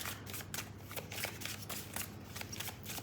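Tarot cards shuffled close by in a quiet room, a soft steady riffling flutter running throughout at low volume with no talking.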